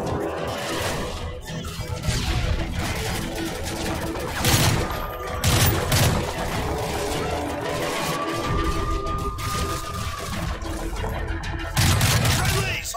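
Gunfire and crashing impacts in the video game Call of Duty: Modern Warfare 3 during a combat mission, with bursts of shots over a busy layered battle mix and voices talking throughout.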